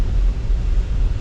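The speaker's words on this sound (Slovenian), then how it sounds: "Pomaga nam veter, orang piha" Strong wind at a ski resort near the summit of a chairlift blasts steadily against the microphone, a dense continuous roar with gusty buffeting and no talk.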